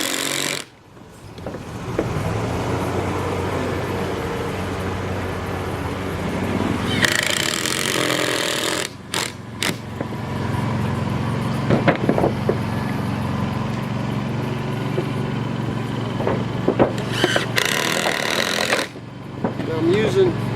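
A power driver sinks 2.5 to 3 inch bugle-head screws into wooden rafters while a mobile home metal roof is prepared, in two loud, close buzzing bursts over steady background rumble, with a few sharp knocks between.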